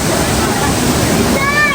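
Kanthanpara Waterfalls in Wayanad, Kerala, a loud continuous rush of falling water filling the short stretch, with faint voices mixed in.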